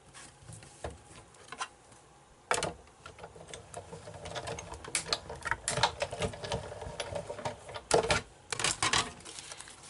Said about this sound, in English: Then we'll get this run through the Big Shot.